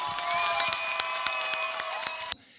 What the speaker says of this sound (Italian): Vorrei un grande applauso di incoraggiamento per Salvo Ladelfa